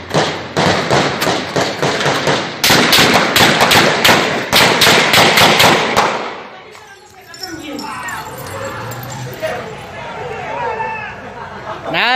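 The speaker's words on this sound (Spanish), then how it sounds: "No, le están disparando a mansalva ahí." Gunshots fired at a truck driver outdoors, rapid loud cracking bursts fired in quick succession for several seconds, then stopping as agitated voices talk over background noise.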